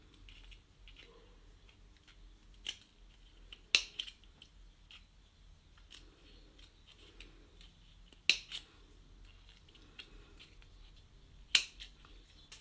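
Scissors cutting a strip, with a few sharp isolated snips spaced several seconds apart, close and crisp against a quiet background.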